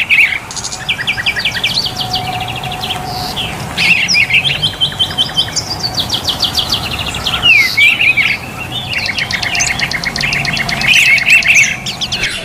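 Caged birds, including laughingthrushes, at a bird market kiosk chirp, whistle and squawk continuously and loudly, several calling at once in a busy overlapping chorus with repeated bright trills.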